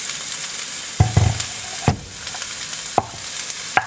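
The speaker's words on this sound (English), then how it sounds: "Now I'm going to add in all of my riced cauliflower." Riced cauliflower being added to a pan for a low-carb rice-a-roni dish, with a constant crackling sizzle and a few sharp thuds and scrapes as it tumbles in.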